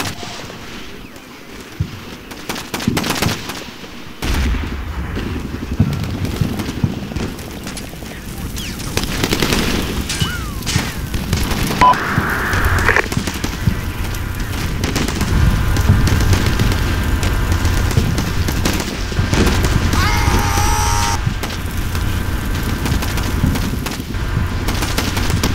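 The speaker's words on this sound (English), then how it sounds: "We have a pretty good firefight going on in the courtyard here." Sustained gunfire from a firefight in a courtyard in the video game Combat Mission: Shock Force, with bursts, booms and rattling shots layered over each other at a steady, loud level throughout.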